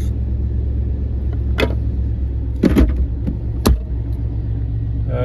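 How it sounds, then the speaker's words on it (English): A 1992 Chevy Blazer engine idles steadily just after starting, a close, constant low rumble with a few brief louder bursts from nearby handling noises. "Fires right up."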